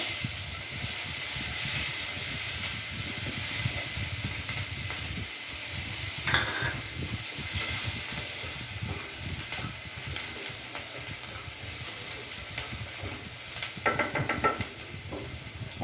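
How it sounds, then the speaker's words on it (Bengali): Chopped onions frying in hot oil with cumin and dried chilli, a steady close sizzle and hiss with occasional stirring scrapes throughout. "এরই মধ্যে আমি এখানে পেঁয়াজ কুচনোগুলো দিয়ে দেবো"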